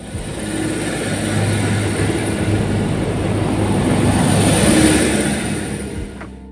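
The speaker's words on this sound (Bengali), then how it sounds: "একদম রাইট টাইমে ট্রেনটা ঢুকে গেছে।" A train rolling into a small, quiet rural station in Macedon, Australia, heard as a loud continuous rumble and rail hiss that swells gradually and then fades at the end.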